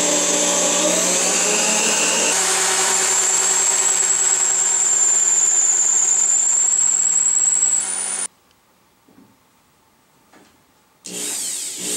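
Power drill boring a hole during a home office bookcase build, a loud steady whine running about eight seconds, stopping abruptly, then near silence before a brief restart at the end.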